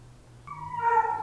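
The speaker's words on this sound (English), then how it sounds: "I'm guessing that dog's owners probably went up those stairs and let him hang back because he keeps barking" A dog left waiting at the foot of stairs in Feldkirch gives a single whining, howl-like bark that rises after a quiet moment, heard fairly close.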